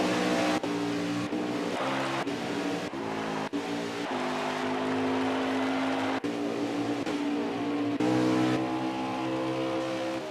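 Race car engines in a racing video game on pit road at Michigan International Speedway, droning and revving at steady pitch with shifting tones and brief gear-change dips, loud and continuous.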